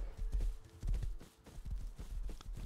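Horse hooves in the survival video game Rust clop along in a quick, uneven rhythm of close, thudding steps, with no talk over them.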